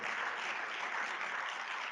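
A lecture audience, many wearing masks, claps at an annual opening lecture event; dense, continuous applause from a crowd, fairly loud and even from start to finish.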